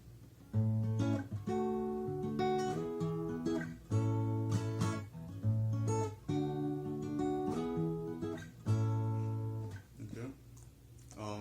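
An acoustic guitar plays a fingerpicked chorus pattern from a song, close and clear, repeating plucked arpeggios in steady rhythmic cycles with no talking.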